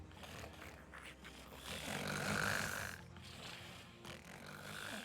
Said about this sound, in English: They snore a lot.